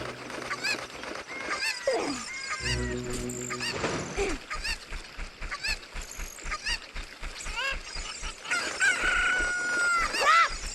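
A cucco chicken in Zelda Ocarina of Time Master Quest 3D crows and clucks repeatedly, loud and close, amid busy game sound effects and a rhythmic musical backing.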